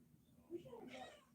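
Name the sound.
cat meowing, yelling at a ball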